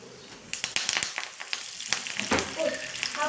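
Spices and curry leaves sizzle in hot oil as a tempering for a tomato-leaf and raw mango dal, with sharp crackles and pops bursting over a steady fry.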